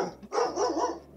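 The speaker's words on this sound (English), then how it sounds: "You got your dog going." A dog barks once or twice close by, short sharp yaps with no one talking over them.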